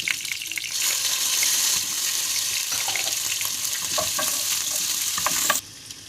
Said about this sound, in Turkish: Tereyağımızı da erittikten sonra etimizi ekleyeceğiz, pişirmeye başlayacağız.